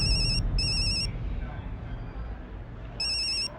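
A telephone rings in bright electronic trills, two quick bursts, a pause, then another burst, over a low background rumble.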